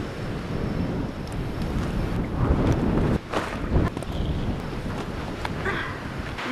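A strong, gusty wind blows on a seaside beach, buffeting the microphone with a loud, continuous low roar that swells and dips, and a brief rustle and knock come part way through.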